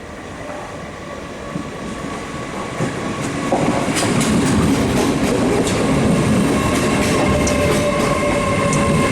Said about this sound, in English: This is my train to Durham, the 2258 goes to Newcastle.